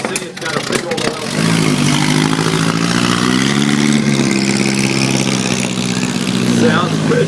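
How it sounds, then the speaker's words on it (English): Hot rod with a big oil-fed motor, overdrive and 2-speed rear end on Model T wire wheels, runs loud and steady under load at a car show, a deep harmonic drone holding for several seconds after a brief start. "Oh yeah, putting the motor under a load for us."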